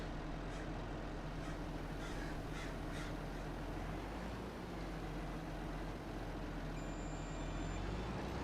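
Crows caw several times early on in Farming Simulator 25 as birds flock in over a farm field, the calls set against a steady engine rumble from farm machinery.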